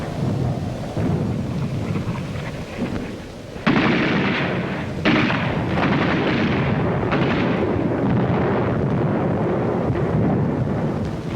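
Battlefield artillery fire from a World War II documentary, a sustained loud rumbling roar with heavy booming swells that surge and linger without pause.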